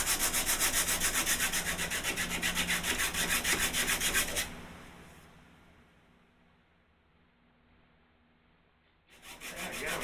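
Fast rhythmic sanding across a wooden board with a knot, a loud close rasping scrub that stops halfway, leaving near silence before the strokes start again at the end.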